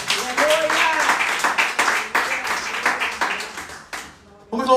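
A church congregation clapping in a quick, regular rhythm in praise, the claps running under a voice and fading briefly before picking back up.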